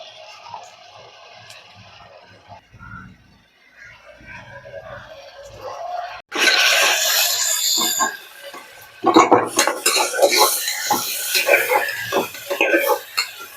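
Onions sautéing in a pan for homemade biryani, a quiet low hiss at first that swells into loud, steady sizzling and frying with occasional clinks of utensils against the pan.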